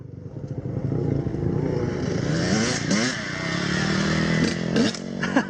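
Mini dirt bikes in the mini bike class at a hare scramble race, Husqvarna and Honda, revving hard and loud with rising and falling engine pitch and clattering, close by.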